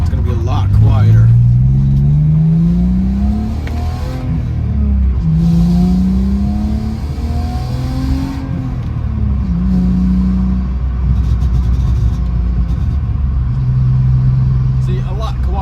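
BMW E46 inline-six with a Turner Motorsports valved catback exhaust in the closed position, revved repeatedly with rising and falling engine pitch over a steady idle rumble, recorded close by.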